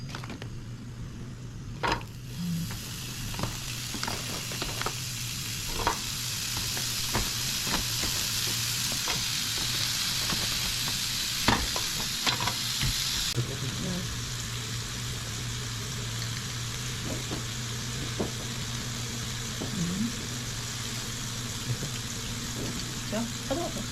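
Thin-sliced pork belly (daepae samgyeopsal) fries in a pan with a steady close sizzle and hiss, broken by scattered sharp pops and crackles throughout.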